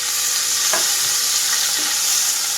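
Paneer pieces fry over low flame in a pan for tomato paneer curry, making a continuous close sizzle with a couple of brief stirring scrapes and no talking.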